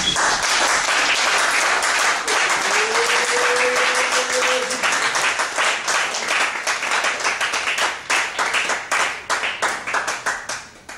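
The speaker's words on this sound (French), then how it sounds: "Est-ce que tu peux acclamer le Seigneur?" A church congregation at a Sunday service applauds loudly and steadily in a dense wash of clapping, with a sustained sung or shouted tone rising briefly above it, before the claps thin into scattered individual slaps.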